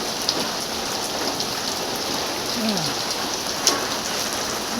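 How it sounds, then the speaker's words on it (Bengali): Heavy rain pours down outside in a dense, constant hiss of drops striking surfaces, close and unbroken for the whole stretch, with a few brighter splashes standing out. "বৃষ্টি এখন যেন আরও বেশি জোরে পড়ছে বন্ধুরা আগের থেকে আরও বেশি জোরে পড়ছে"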